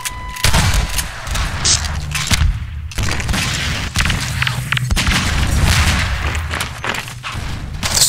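Continuous Half-Life 2 Deathmatch gunfire fills the scene: rapid overlapping shots and booming impacts, loud and dense throughout with no letup.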